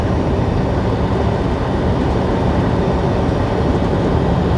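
A CSX freight train with a DPU locomotive rolls past, a loud and steady broadband rumble lasting throughout and heard alone.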